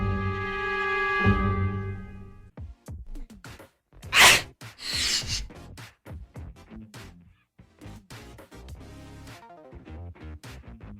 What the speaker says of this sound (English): I sneeze very loud